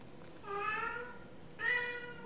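A cat meows twice, clear and fairly close, each call drawn out and tonal with a short gap between them, in an otherwise quiet room.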